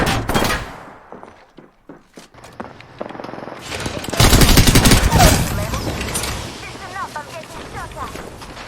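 Video game gunfire, bursts of rapid shots and heavy booms crashing in irregularly, loud and close, with voices calling out over the firefight.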